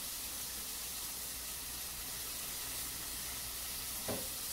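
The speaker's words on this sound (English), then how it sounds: "So let's go ahead and fry the bacon" Bacon frying in a pan for jalapeno poppers: a dense, even, steady sizzle throughout, with one brief soft knock near the end and no speech.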